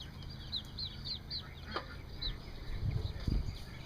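Chicks give a string of small, high peeps with a few quieter clucks from nearby hens, faint and spaced over a few seconds in a quiet farmyard.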